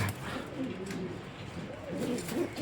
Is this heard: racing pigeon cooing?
yes